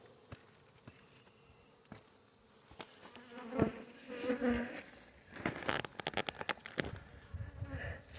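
Honey bees buzz around an open Layens beehive in September, a close, droning hum with scattered louder passes of individual bees and brief bumps and knocks toward the end.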